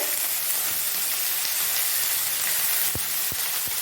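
Ginger, garlic, tomato and onion paste with green chilli sizzling in a hot pan, a dense continuous hiss with a few low thumps near the end, close and alone.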